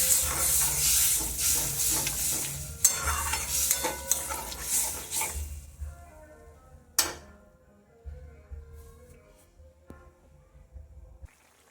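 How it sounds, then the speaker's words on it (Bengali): Sea fish curry sauce with spice paste and water boils in a pan, hissing and bubbling loudly with stirring at first, then settling into softer simmering pops and occasional clinks. "এবারে ঝালটা ফুটে উঠেছে"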